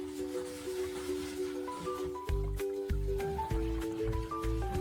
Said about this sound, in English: We need to rinse them thoroughly under running water.